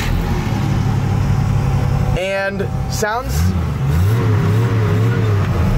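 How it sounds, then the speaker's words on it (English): A Jeep's inline-six engine runs loudly and steadily, rising in a rev, while someone talks over it. "how happy I am with this Jeep overall, and mostly with its inline six engine."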